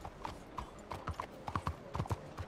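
Rhythmic clip-clop of horse hooves in the video game Red Dead Redemption 2, steady trotting beats at low volume with a faint background hum.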